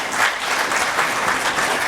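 Steady audience applause at an Indian football event, a continuous wash of clapping from a sizeable crowd.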